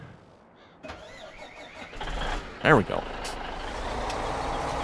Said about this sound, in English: Maybe I'd better move the Peterbilt here a moment.